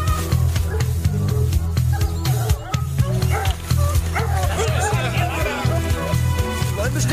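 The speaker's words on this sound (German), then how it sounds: "Das Bellen wird immer lauter." Hunting dogs bark repeatedly during a fox hunt, several yips and woofs set against a steady low rumble and voices talking over them throughout.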